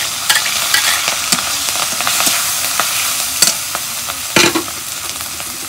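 Chopped onions and green chillies fry in hot oil with a constant close sizzle, and sharp scraping stirs of a spatula against the pan punctuate it at irregular intervals.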